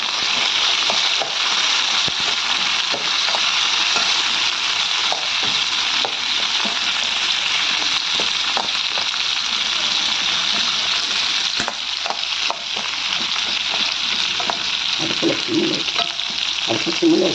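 Eggplant sautéing in a pan with turmeric over a low flame, a steady close sizzle and frying hiss with occasional stirring scrapes throughout, no talking.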